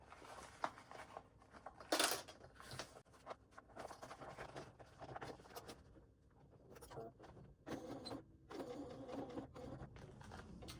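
A sewing machine stitches a Louie waist pack in short, quiet runs of rapid mechanical whirring, broken by pauses and small handling clicks.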